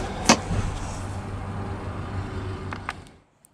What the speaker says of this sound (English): So let's go ahead and pop the boot up front.